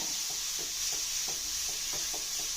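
Crushed spices sizzle steadily in a hot pan while being stir-fried for pappadam thoran, a constant frying hiss broken by regular soft scrapes of a spoon, with no talk.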